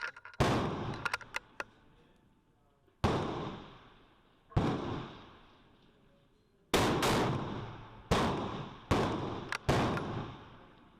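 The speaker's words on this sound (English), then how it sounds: "as I speak, he's shooting right in the X" Rifle shots ring out one at a time at a shooting range during powder testing, about ten sharp reports with several seconds of ringing decay between them, a quick cluster near the start and a few closer pairs later.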